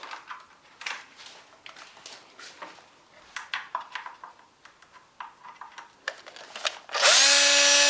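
A 12 volt cordless drill run without its battery pack, a series of short clicks and taps followed by a loud steady whine of the motor starting near the end, close up, with no talk.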